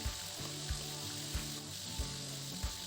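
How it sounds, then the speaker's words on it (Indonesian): Mackerel scad fries in a wok with a steady, dense sizzle and hiss, punctuated by soft low thumps about every half second. "Setelah itu kita lanjutkan untuk goreng ikan yang belum kita goreng ya."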